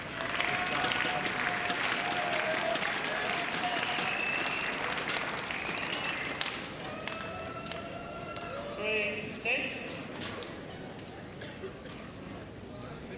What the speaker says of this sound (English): There's a bit of support from the Indonesian crowd.